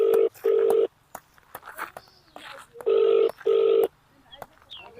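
Four bright telephone keypad tones beep in two quick pairs as a number is dialled, loud and close, with brief murmurs of voice in the gap between them.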